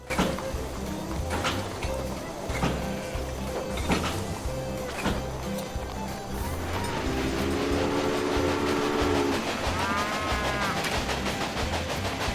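Rhythmic rumbling and clacking of a train running along tracks in the game Railway Empire, steady and close, with a squealing whistle-like tone near the end.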